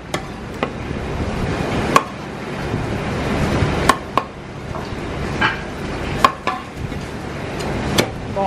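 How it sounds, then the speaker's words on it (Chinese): A cleaver chops through a live orange-striped emperor fish, removing the head with a series of sharp, loud thwacks on a board at irregular intervals over a steady background hum. "個頭斬出嚟"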